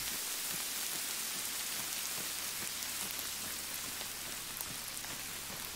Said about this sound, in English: Oh, this rain is gonna have me drenched.